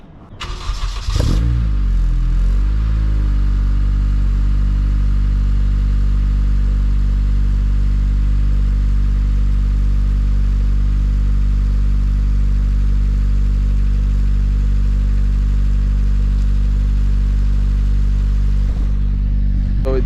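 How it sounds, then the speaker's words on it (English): A 2005 Acura RSX Type S with 160k miles and a Borla exhaust cold-starts with a short cranking clatter, then settles into a loud, steady, deep idle drone that holds for the remaining seconds, with no talking. "Let me give you guys a cold start and show you guys what this car sounds like."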